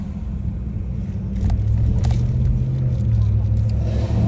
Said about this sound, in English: At least somebody's got a nice truck around here